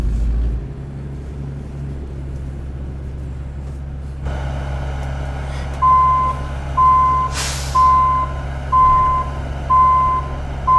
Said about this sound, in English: Sorry about the beeper, guys.